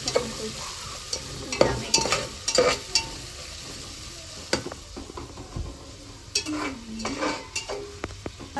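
Onions frying with ground ginger-garlic paste in a pan, stirred with irregular scraping strokes and utensil taps over a bright, crackling sizzle, heard close up with no talking.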